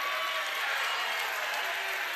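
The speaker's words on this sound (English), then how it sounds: "Applause from the crowd from the CHCA." Crowd applause fills a high school gym at a CHCA boys varsity basketball game, a dense steady wash of clapping that runs throughout.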